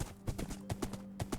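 A horse's hooves clip-clop in a video game, a quick, even run of about a dozen soft, close hoofbeats with no voices.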